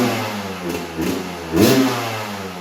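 An old Yamaha YZ motocross bike engine revving in a backyard, a continuous buzzy two-stroke drone that swells in three quick blips of throttle, close and fairly loud.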